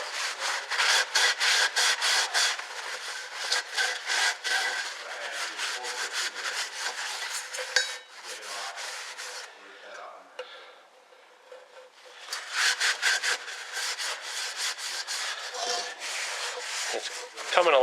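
Scrubbing and rubbing sounds while the oil bath air cleaner from a 1966 Chevy C10 truck is cleaned out, close and steady, with a short quieter pause midway before the scrubbing picks up again.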